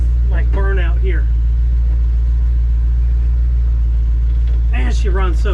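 The engine of a 1965 Dodge Ram truck with fuel injection and about 345 horsepower rumbles steadily, loud and close, as the truck drives around the block. A voice speaks over it briefly at the start and again at the end.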